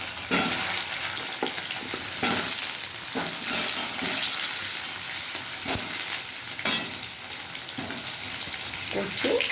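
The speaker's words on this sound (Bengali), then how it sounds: "কচু আর আলু একসাথে ভেজে নেব।" Taro and potato pieces fry in hot oil with a continuous close sizzle, broken now and then by louder crackling bursts as the pieces are stirred.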